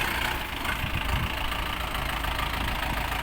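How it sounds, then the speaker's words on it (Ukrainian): A 50-horsepower Orion 504 tractor engine idles nearby, a steady low constant rumbling chug with no talking, holding an even level throughout. "Відвантажимо тракторця Оріон 504."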